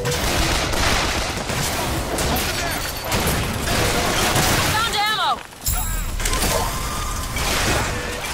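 Continuous rattling turret gunfire in the video game BioShock Infinite, a dense loud barrage running nearly throughout with a brief break midway, mixed with mechanical whirring and combat noise.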